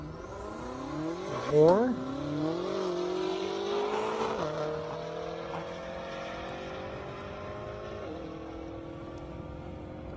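Race cars, a Camaro ZL1 and a BMW M6, accelerate hard at an airstrip drag race, engines revving up through several gear changes into a loud, steady drone that slowly fades, with a brief voice near the start.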